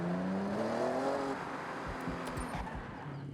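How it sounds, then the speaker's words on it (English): A car in Forza Horizon 6 pulls away from the garage, its engine note rising as it accelerates, a fairly close steady motor drone with faint background music. "head out of your garage and drive the car for around 4, maybe 5 or 6 seconds"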